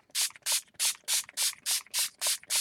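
A spray bottle mists water over paint squirted out for a chipboard craft, giving nine quick, evenly spaced hissing bursts close by, with no talking.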